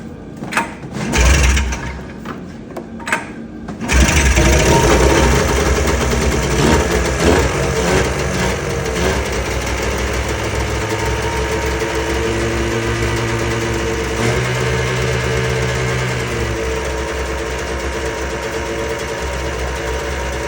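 A 2003 Arctic Cat Z440 snowmobile engine, run with its airbox removed, cranks and fires, then settles into a loud, steady, slightly uneven idle with a constant rumble that continues for the rest of the clip.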